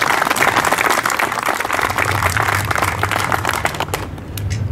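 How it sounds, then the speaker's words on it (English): Audience applause at an RV dealership grand opening ceremony, a sustained dense clapping that holds steady for several seconds before thinning out near the end, with no talk over it. "please join me in a round of applause for Heidi"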